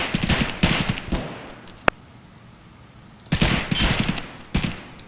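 Gunfire in the shooter game Escape from Tarkov: bursts of rapid automatic shots, loud and close, with a single sharp shot in a quiet gap before another sustained burst, no talking.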